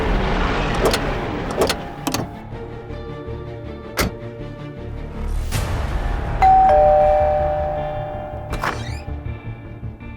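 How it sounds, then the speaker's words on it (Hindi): A doorbell chimes inside a home, sounding several separate ding-dong tones spaced out over about ten seconds above a low steady hum. No one speaks. "अभी थोड़ी देर पहले डोरबेल बजी थी"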